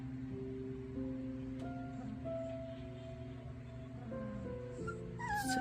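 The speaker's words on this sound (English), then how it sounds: "Oh, our puppy's whining." A three-week-old puppy whines and whimpers in high, wavering cries, fairly close and soft, rising to sharper yips near the end, with no talk.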